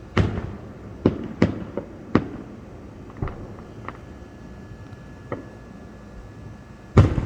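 Fireworks exploding outdoors in the evening: a string of sharp, separate bangs and pops at uneven intervals, some close and loud, others fainter, with a final heavy blast near the end over a low background rumble.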